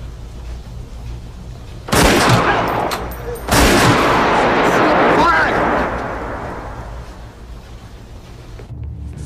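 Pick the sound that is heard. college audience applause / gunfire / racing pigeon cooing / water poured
gunfire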